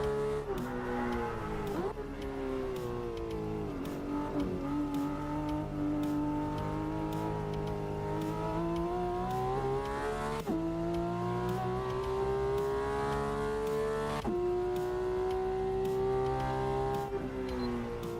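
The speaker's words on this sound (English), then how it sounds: "it sounds and it looks in the game like a Porsche 911" A Porsche 911 GT3 RS flat-six in the Assetto Corsa racing sim, heard from inside on a simulator rig, holding a steady drone that climbs in pitch through the gears with brief drops at each shift, continuous and moderately loud.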